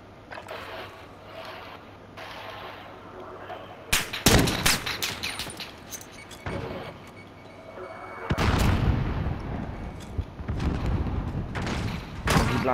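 Shotgun blasts from Call of Duty: Modern Warfare crack out in loud bursts, several booming shots clustered together with quieter game ambience and brief voices in between.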